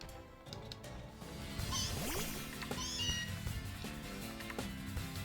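The cry of Meowth, the cat Pokémon from a Pokémon video game, comes as a meow over busy game music and sound effects, fairly faint in the mix.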